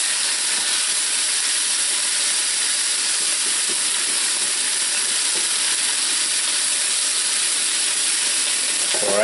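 Lamb chops sizzle steadily in a pan, a constant loud frying hiss that barely changes from start to finish, with no voices over it.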